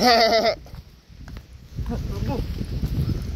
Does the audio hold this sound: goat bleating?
yes